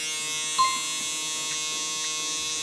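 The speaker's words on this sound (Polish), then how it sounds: "Golarka i linia, którą zrobiłem sobie trymerem jest oczyszczana na linii górnej wargi." An electric shaver runs steadily as it cleans up a trimmed line above the upper lip of a beard, a continuous close buzz with a brief louder touch partway through.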